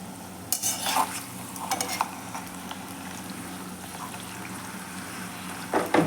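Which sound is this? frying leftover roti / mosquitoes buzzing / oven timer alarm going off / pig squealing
frying leftover roti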